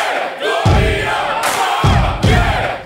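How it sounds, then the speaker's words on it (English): A large football crowd of the Macedonian community chants "Macedonia" in loud, rhythmic surges, several chanted phrases rising and falling together in a big open stadium. "you can hear them chanting Macedonia in the crowd"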